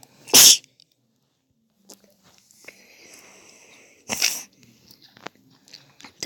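One sharp, loud sneeze bursts out right at the start, followed by quiet scattered rustles and a faint crunch or chewing noise.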